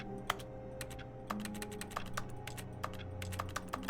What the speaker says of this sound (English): It sounds like I'm clicking on my keyboard, but I'm away from my keyboard now.